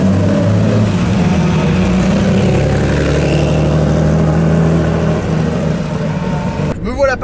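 A Porsche 911 SC pulls hard around the Lohéac race circuit, a loud sustained engine roar heard from inside the cabin that holds steady before easing off, with a voice briefly at the end.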